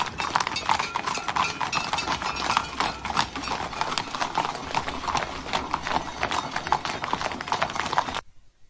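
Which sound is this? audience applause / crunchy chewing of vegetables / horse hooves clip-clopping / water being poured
horse hooves clip-clopping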